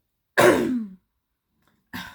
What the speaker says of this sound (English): sorry, coughs.